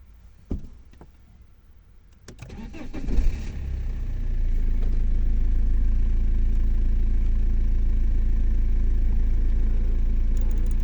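A BMW E90 engine cranks and fires after a couple of clicks, surging briefly before settling into a steady, close idle that hums on alone without any talk.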